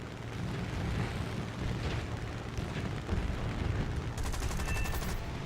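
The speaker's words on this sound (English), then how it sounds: "I have 12 machine guns with this Mark III, Mark II Hurricane" Rapid machine-gun fire from a Hurricane Mk II fighter armed with twelve guns, in War Thunder, as a dense continuous rattle over a loud engine roar throughout, with a crisper burst of high-pitched clatter near the end.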